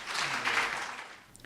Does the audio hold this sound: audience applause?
yes